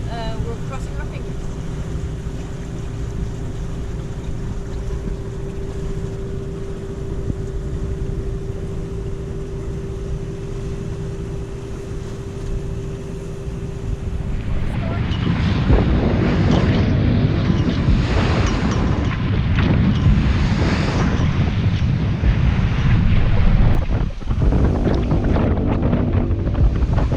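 A sailboat's engine drones steadily at sea while crossing the Bay of Biscay off the French coast in bad weather; midway, gusting wind and rushing waves swell over the engine noise and stay loud.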